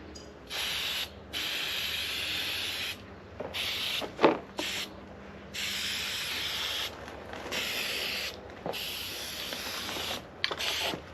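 Bursts of hissing spray paint on pallet wood start and stop repeatedly, each lasting a second or two, with short gaps of quiet and a couple of mechanical clicks between.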